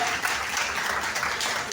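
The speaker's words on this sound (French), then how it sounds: "On va l'applaudir très très fort." An audience at a holiday club finale gives applause, a soft, fairly distant wash of clapping across the whole stretch, slightly muffled.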